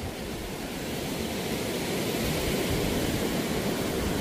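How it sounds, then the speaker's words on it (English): Ocean waves crash against rocks on a Costa Rica beach, forming a steady, dense roar of surf that swells slightly louder over the span, with no voices. "You're gonna hear nothing but the waves crashing on the rocks."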